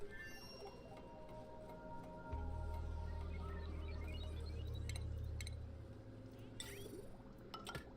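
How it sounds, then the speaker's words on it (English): Water flowing through pipes in the base-building game Oxygen Not Included, a steady low gurgling rush that swells for a few seconds, then eases off among small clinks and ticks. "Some water flowing in here."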